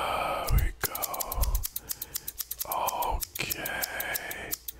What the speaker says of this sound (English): Get these scissors here for you.